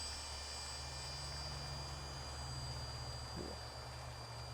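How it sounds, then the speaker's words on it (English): A micro fixed-pitch Esky 150 EC RC helicopter flies in wind, giving a faint, continuous high motor whine with steady tonal hum and broadband wind rush, no talking. "Micro fixed pitched helis and wind, not a good combination."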